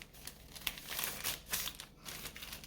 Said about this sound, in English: So you're gonna take your bag and you're gonna fold it in half long way.